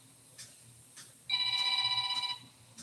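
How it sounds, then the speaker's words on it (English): A work phone rings in a repeating electronic tone for about a second, loud and alone after a quiet room with faint background hum. "That's my work phone. I'm off today, so it's just gonna have to ring."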